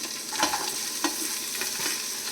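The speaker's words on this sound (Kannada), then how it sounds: "ಇವಾಗ ಉಳಿದ ತರಕಾರಿಗಳನ್ನ ನಾನು ಹಾಕ್ಕೊಳ್ತಾ ಇದ್ದೀನಿ." Chopped vegetables such as pumpkin, carrot, beans, cabbage, cauliflower and potato stirred in a pot for green moong dal khichdi, giving a soft sizzle with a few quick scraping strokes, close and quiet.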